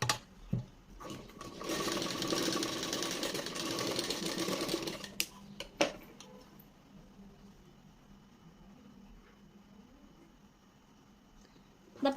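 A sewing machine whose needle fails to form stitches runs in a loud continuous whir for about four seconds, then stops with a few clicks and knocks before faint background noise takes over. No one speaks.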